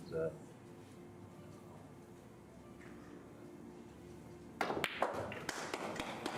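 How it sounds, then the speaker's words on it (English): Lithuanian fans at a 9-ball pool semifinal break into scattered, sharp applause near the end, following a quiet stretch with a voice talking in the background. "We hear some applause from Lithuanian fans"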